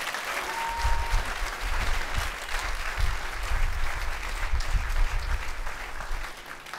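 Audience applause at an awards ceremony, steady clapping from a moderate crowd heard at a little distance, continuing throughout with no talk over it.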